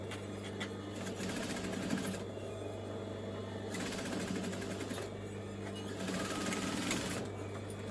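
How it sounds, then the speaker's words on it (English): A sewing machine runs in steady bursts while understitching a dress pocket seam, its motor whirring continuously with a few speed changes and brief pauses between runs, close and fairly loud. "where I started stitching is where I'm going to come down to understitch it"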